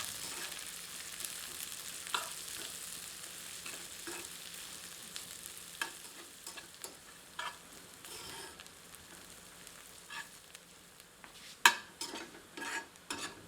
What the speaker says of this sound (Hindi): प्याज को मध्यम आंच पर तब तक भूनते हैं जब तक कि प्याज सुनहरी नहीं हो जाती।